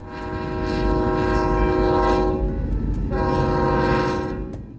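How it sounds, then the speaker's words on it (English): A long cargo train crosses an intersection in the central USA, its horn sounding two long blasts over the steady rumble and rolling clatter of the wagons. "a long cargo train, even longer cargo train, which took over 4 minutes crossing the intersection"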